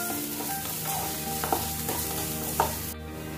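Onion sautéing in a pan over medium to high flame while making soya momo filling, a continuous sizzle with a few clacking stirs before it cuts off near the end.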